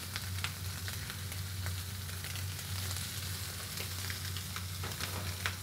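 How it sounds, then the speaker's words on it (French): Scallops searing in a hot non-stick frying pan give a steady, even sizzle with scattered tiny pops and crackles, moderately quiet and continuous throughout without any voices. "Poêle bien chaude, anti-adhésive, et on va mettre à rôtir nos noix de Saint-Jacques."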